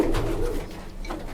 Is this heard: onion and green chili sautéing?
no